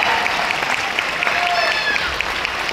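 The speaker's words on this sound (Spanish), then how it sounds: "un aplauso fuerte para Daniela Luján y Martín Rica." An audience applauds during the cast introduction for the telenovela Papás por Conveniencia, with steady, dense clapping and a few whistle-like cheers running throughout, while an announcer's voice carries over the top.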